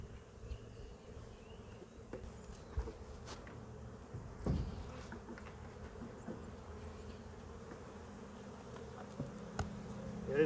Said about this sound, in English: A lot more bees on this medium.